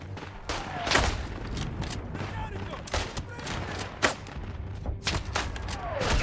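Gunfire in the World War I shooter Isonzo: repeated sharp rifle shots and bursts, some near and loud, others distant, scattered irregularly across the battlefield with ongoing background din.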